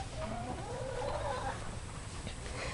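Chickens in a backyard coop shaded by a banana tree, soft clucking and a brief rising call over steady outdoor background noise.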